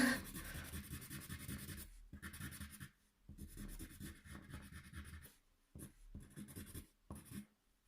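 Close, steady scratchy rubbing of a colored pencil on drawing paper over an underlying sheet, in repeated strokes separated by short pauses, with no voices.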